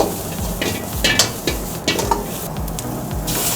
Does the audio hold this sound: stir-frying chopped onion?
yes